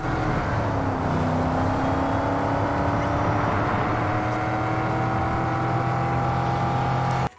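A car driving in Cyberpunk 2077 on Switch 2 holds a steady engine drone for about seven seconds, with rising tonal whine as it accelerates, loud and close, before cutting off abruptly at the end.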